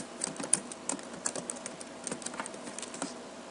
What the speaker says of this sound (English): then I'm going to enter my username and password in here.